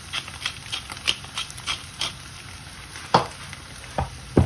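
Minced meat sauce for Greek spaghetti, makaronia me kima, sizzles in a pan with a steady hiss, while a spoon stirs it in repeated scraping strokes.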